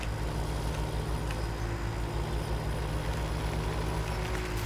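A truck driving in the farming game Landwirtschafts-Simulator 17, a steady low engine drone that holds at an even level throughout with no breaks.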